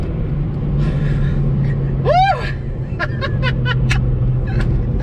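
A car engine rumbles low and steady throughout while the driver lets out an excited whoop and a few short sounds, the motor hum staying constant beneath the voice.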